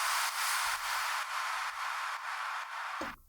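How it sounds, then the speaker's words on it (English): A simple impact effect from a stick sample pack, used in a progressive house drop in FL Studio: a loud, sustained noisy wash with a pulsing low thump under it, ending in a short downward swoosh. "I just got a simple impact from the stick sample pack."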